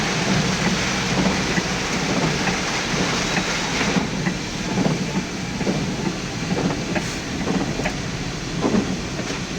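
Heavy rain pouring near a metro station in a thunderstorm, a dense steady roar of rainfall with low rumbling underneath, loud and unbroken from start to finish with no voices.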